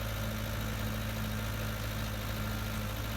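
In Farming Simulator 19, a tractor engine idles with a steady, even, low drone that carries on unchanged throughout, with no talk over it.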